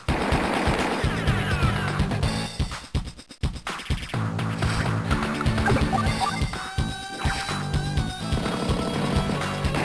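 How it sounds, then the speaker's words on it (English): Units trade fire in the Advance Wars video game: continuous rapid machine-gun bursts and crashing impacts, loud and dense, with a brief lull partway through before the volley resumes. "Well, just keep firing on them."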